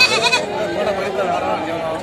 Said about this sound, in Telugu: ఇక్కడ మేకలు ఉన్నాయి, అడుదాం ఎంత చెప్తా.